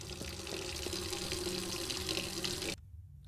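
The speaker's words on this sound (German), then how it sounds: "Und das Wasser läuft im Badezimmer." Water runs steadily from a bathroom tap in the Ghost Exile video game, a faint continuous splashing hiss that cuts off abruptly near the end, with no talking.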